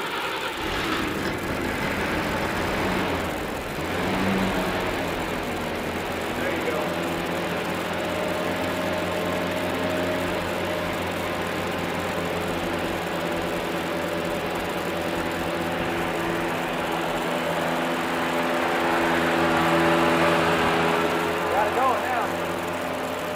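An old fire engine idles steadily after starting with the choke partly in, a close, continuous rumbling engine under people talking.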